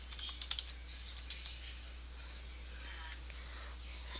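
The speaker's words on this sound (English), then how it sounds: "Let me type in" Keys tapped on a computer keyboard in quick, light clusters at the start and again near the end, quiet over a low steady hum.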